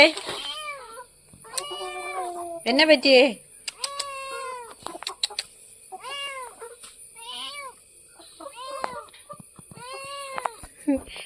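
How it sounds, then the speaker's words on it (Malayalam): A small kitten mews plaintively over and over, thin wavering cries arriving in uneven bursts, close and fairly loud, with a person's voice speaking briefly between them. "നമ്മുടെ കുഞ്ഞു പൂച്ചയുടെ സങ്കടങ്ങളും പരാതിയും പരിഭവം മാത്രം നിറഞ്ഞ ഒരു വീഡിയോ ആണ്"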